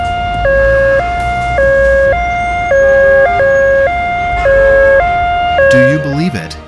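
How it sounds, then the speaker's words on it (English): An ambulance siren on a highway wails in a steady two-tone alternating pattern, loud and close, then bends sharply upward near the end as the vehicle passes, over road rumble. "This young man left his car on the highway to run over a kilometer to clear the way for an ambulance."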